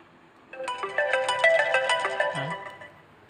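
An old used phone plays a melodic ringtone through its loudspeaker, a bright repeating tune sounding loud and close for about two seconds, with no talking.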